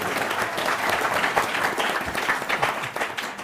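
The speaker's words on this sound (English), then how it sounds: "Give him a round of applause for that." A room full of people applauds steadily for several seconds during a Black History Month panel, a dense wash of clapping with scattered hands and a faint murmur underneath.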